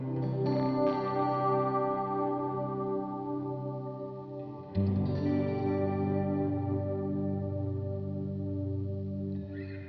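An electric guitar played through a Blue Sky reverb pedal on its mod setting rings out in lush, shimmering sustained chords, with one chord held and a second struck midway that swells and washes on without a break.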